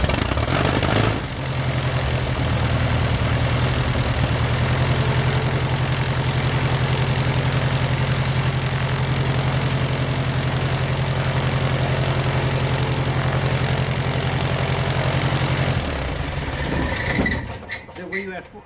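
The engine on a RANS S21 aircraft idles after its first start, a steady loud low drone with a propeller hum that holds for about fifteen seconds, then drops away and winds down near the end.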